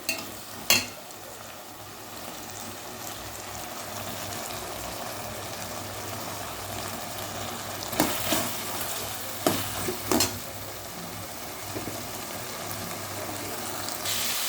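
Eggplant sizzles steadily in a hot pan, with occasional sharp clatters of a spoon stirring against the pan.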